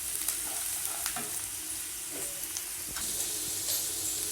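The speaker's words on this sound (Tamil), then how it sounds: "நல்லா வதக்கி விடுங்க" Masala for okra poriyal sautés in a pan with a constant sizzle and hiss, broken by repeated scraping stirs and light knocks of the spoon, close by.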